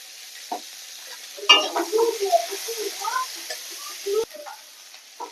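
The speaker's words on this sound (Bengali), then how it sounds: "ডাঁটাগুলো হালকা করে ভেজে নিয়েছি, ভাজাও হয়ে গেছে।" Tender moringa drumsticks lightly frying in a pan, with scattered sizzling pops and a few clinks of stirring over a faint steady background, sparse and close.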